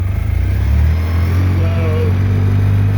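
A 2013 Polaris RZR 800S with a rebuilt motor idles steadily throughout, a loud, continuous low engine drone with no revving.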